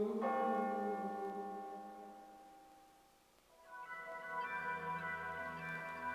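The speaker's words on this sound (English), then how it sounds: "The bells rang out." Church bells ring in two long resonant strikes, each blooming into a rich humming tone that slowly decays, the second peal arriving after a brief lull, fairly distant and clear.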